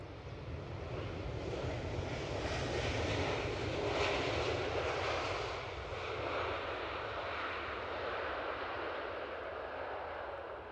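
A JetBlue airliner arriving at Edinburgh Airport, its jet engines a steady, distant broadband roar that swells gently and then holds, heard alone with no talk.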